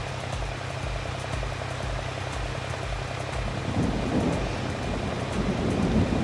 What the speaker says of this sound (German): Ganz schön Gewitter hier, ne?